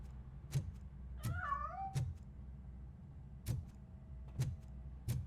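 Cat meows in the video game RoboCop: Rogue City, a couple of rising, wavering cries near the start, set among sharp thuds or footsteps recurring across the clip over low background hum.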